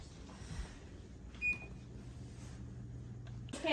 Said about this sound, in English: Our first instructions say to preheat the oven to 325.